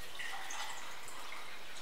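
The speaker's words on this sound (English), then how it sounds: "let's pour this in." A soft, continuous splashing pour of wine into a pitcher for sangria, close by and fairly quiet, with a fizzy hiss.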